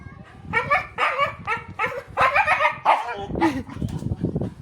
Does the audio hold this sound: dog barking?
yes